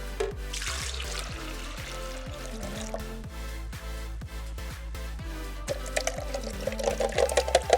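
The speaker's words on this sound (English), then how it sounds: "now we're going to add the pumpkin with the water in our blender" Water pours steadily into a blender holding pumpkin, with a soft, continuous splashing, set against a low background hum and occasional light clinks.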